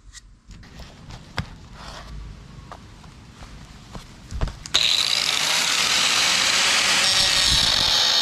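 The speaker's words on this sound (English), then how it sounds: "Have you guys ever cut brand new coilovers?" A power tool cuts into a coilover top hat, starting after a few seconds of clanks and taps with a loud, continuous high-pitched grinding whine that holds to the end.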